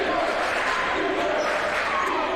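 A gym crowd at a regional boys' high school basketball tournament game keeps up a steady, dense roar of cheering and chatter throughout, with no distinct peaks.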